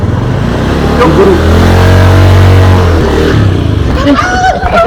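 A motorcycle engine revs up nearby in a loud, rising surge, holds briefly, then drops away, while voices chatter over the end.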